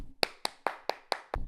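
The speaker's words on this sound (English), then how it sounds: "another round of applause for that" A few sharp hand claps, about six spaced evenly apart, close and clear with no voices.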